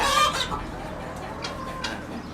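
Chickens and roosters cluck in a coop where two flocks have just been combined, with a few clucks and calls over steady low coop noise, fairly close.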